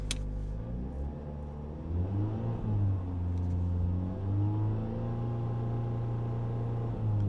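A 2024 Acura Integra Type S engine revs up and holds around 3,500 RPM, a steady mid-level drone with slight rises and dips in pitch, heard alone at moderate loudness.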